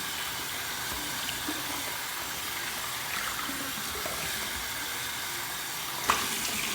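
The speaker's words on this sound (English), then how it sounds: "I'm just going to put some water in there and just clean out this bowl" Running water from a tap rinsing out a collapsible travel shave bowl, a continuous, fairly soft splashing wash with a small clink near the end and no speech.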